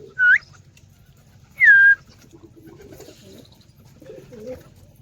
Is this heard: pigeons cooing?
yes